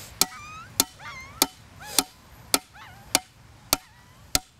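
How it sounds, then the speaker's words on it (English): Eight sharp metallic clangs of a hammer striking a shovel wedged in hard yard dirt, evenly spaced about every half second, close and loud, each with a ringing tail, over a faint background of birdsong. "Try to hit the shovel in there with the hammer"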